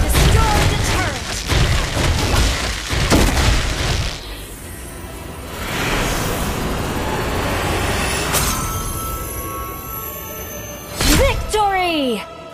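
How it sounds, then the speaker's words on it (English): A turret blown apart in a mobile battle game, heavy booming crashes and rumbling impacts up close, with game effects and a whooshing sweep near the end, partly under announcer speech and music. "Your team destroyed the turret!"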